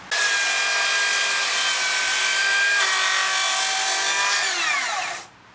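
A Makita 40V 270mm track-compatible circular saw rips through 2-inch timber set at a 60-degree bevel, a loud, steady high-pitched whine that holds for about five seconds, shifts pitch partway, then spins down.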